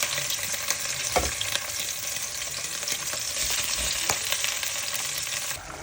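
Prawns fry in a hot pan with a steady, close sizzle that runs throughout, broken by a few soft knocks of stirring.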